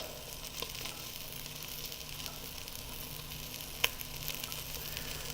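A roast searing in an all-in-one cooking unit, heard as a faint, even sizzle with light crackles and one brief sharper pop.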